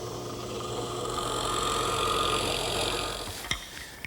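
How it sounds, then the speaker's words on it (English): A drill press bores a half-inch-deep hole with a half-inch Forstner bit into wood for an umbrella stand, a steady close motor hum with a whirring cut that ends in a brief clunk. "I'm using a ½ inch Forstner bit, and the holes have to be about a ½ inch deep."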